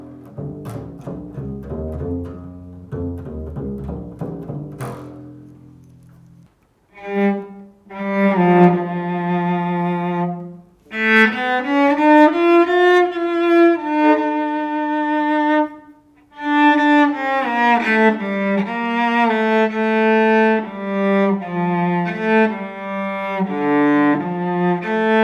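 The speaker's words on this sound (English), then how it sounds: "So the same scale plucked sounds like this." A scale plucked note by note on a four-string string instrument, each tone ringing out clearly and alone, close and fairly loud, with a short pause partway through before the run resumes.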